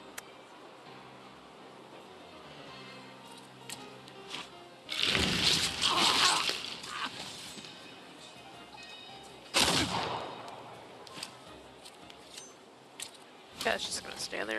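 Rifle and pistol shots ring out in The Thaumaturge, a few loud bursts of gunfire separated by quieter stretches, with a voice talking over parts of it.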